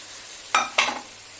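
Boiled ghugni peas and potatoes go into hot frying masala in a pan, giving two sharp splashing sizzles in quick succession that fade into a softer crackle.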